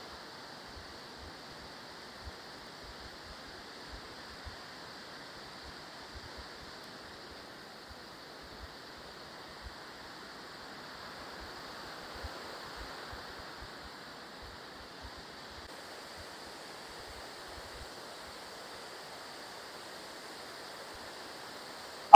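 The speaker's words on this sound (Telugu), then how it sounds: "చూడొచ్చు వాటర్ ఫ్లో ఎంత ఎక్కువ ఉందో ఇక్కడ మీరు." Kothapalli waterfall runs heavy with monsoon flow, heard as a faint, steady distant rush of water that holds evenly throughout, with a few soft low thumps and no voices.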